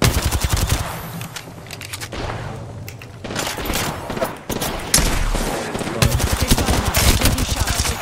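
Sustained gunfire in Apex Legends, with rapid automatic bursts and overlapping shots that are loud and close, pausing briefly before resuming heavily.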